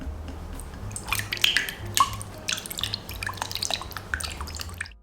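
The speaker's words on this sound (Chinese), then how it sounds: "然后把鸡蛋在牛奶里搅散" An egg being whisked into about 370 grams of milk in a mixing bowl for bread dough: light, wet clicking and sloshing strokes that repeat steadily at close range, with no talking.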